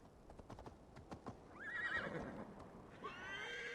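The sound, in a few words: horse neighing and hooves in video game Assassin's Creed Valhalla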